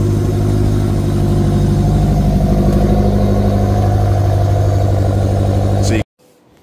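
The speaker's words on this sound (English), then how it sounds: "And this is the cold start." A BMW X5M E70 runs on a cold start with a loud, steady, deep idle and a low rhythmic pulse close by, then cuts off abruptly near the end.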